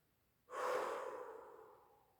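A single slow breath during a calm breathing exercise, a soft, airy exhale swelling quickly and then trailing away gradually over about two seconds, close and alone with no talking.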